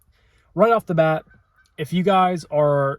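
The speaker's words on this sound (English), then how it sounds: "hopefully you guys can't hear the ducks or geese in the background." Geese honk loudly and close near a swamp, with two bursts of harsh nasal calls separated by a short pause, while a person talks.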